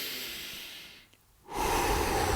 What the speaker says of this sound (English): So you're just simply breathing in